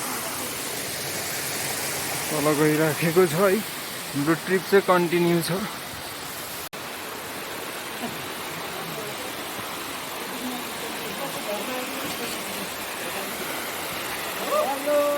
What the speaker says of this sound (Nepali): यो बाटोमा देखेको झरना देख्न सक्नुहुन्छ